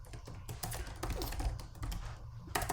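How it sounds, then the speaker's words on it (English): Quick bursts of clattering keystrokes on a computer keyboard sound close and fairly loud, uneven in rhythm and broken by short pauses. "I'm typing this into"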